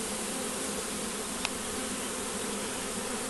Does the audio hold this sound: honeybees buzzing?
yes